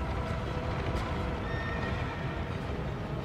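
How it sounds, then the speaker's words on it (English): A horse whinnying loudly in Dark Souls 2 during the Executioner's Chariot fight, with clattering hooves and a dense, steady rumble of game noise throughout and no talk. "When does he get off his fucking horse?"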